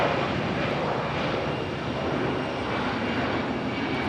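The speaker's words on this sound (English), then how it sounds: "Our American A319 getting a move on." An American Airlines Airbus A319 airliner takes off at Raleigh-Durham International Airport, its engines giving a steady, loud broadband roar that holds evenly throughout with no breaks.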